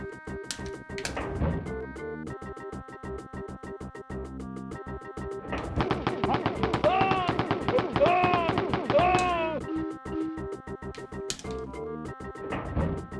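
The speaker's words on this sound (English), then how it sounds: "That's a minigun, kinda" Rapid automatic gunfire from a minigun in a Doom-like video game, played on a Super Nintendo, rattling loudly over dense game music, with bursts swelling in the middle and tapering near the end.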